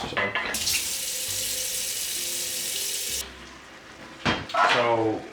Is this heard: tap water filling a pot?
yes